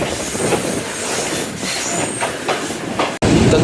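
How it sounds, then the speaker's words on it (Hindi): The Shalimar Express passenger train runs near Gambat railway station in Pakistan, a loud, close, continuous rumble of rolling wheels with squealing and rhythmic clickety-clack, with no voices. "तो दोस्तों गंबट रेलवे स्टेशन के करीब"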